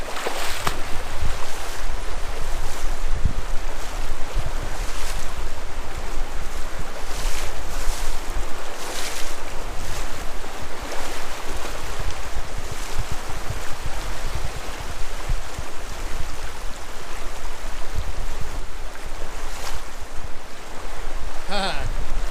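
A shallow river rushes and splashes continuously as someone wades across it, the water loud and close throughout, with occasional sharper splashes from footsteps over rocks.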